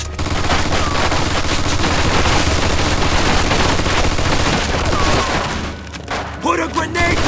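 Sustained machine gun fire in the Mafia 2 Definitive Edition Old Country wartime mission, dense overlapping bursts and booms running loud for several seconds, then thinning into scattered shots with voices shouting over the battle.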